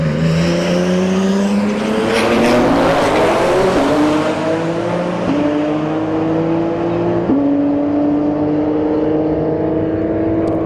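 Nissan GTR and an S550 Mustang launching hard at a drag strip, loud engines climbing through stepped gear changes with tire noise, continuous and close for the full run.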